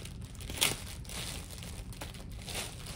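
A plastic bag being opened gives soft, close crinkling and rustling with one sharper crackle near the start, faint and with no speech.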